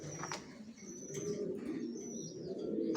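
Racer pigeons coo softly in a loft, low repeated throaty calls with a few brief chirps and rustles over a quiet background.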